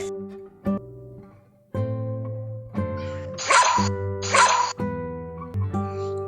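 Two sharp barks from a dog in quick succession, set over sustained musical notes in a children's alphabet song.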